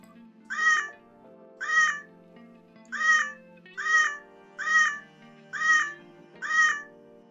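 Seven evenly spaced electronic meows from a Pentax camera repeat at a steady rhythm, clear and fairly quiet, with nothing else in between.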